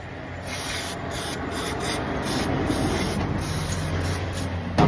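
Sandpaper rubs steadily across a part from a 2008 Honda FD engine, a continuous close harsh scraping in even strokes with no talk.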